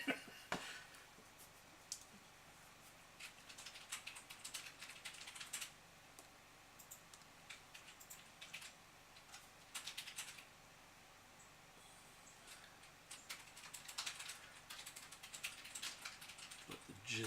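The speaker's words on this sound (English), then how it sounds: "the reason why you're hearing that massive amount of typing back there is because she is furiously working away for one of her clients" Fast, continuous typing on a computer keyboard in a nearby room, clattering keystrokes in dense bursts with brief pauses, fairly faint and heard alone without voices.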